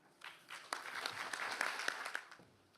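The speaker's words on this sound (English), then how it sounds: "I would like to join the crowd and just applaud" Audience applause fills a symposium hall on opioid and addiction recovery, a dense spread of hand claps that swells, holds for about two seconds, then fades out, moderately distant.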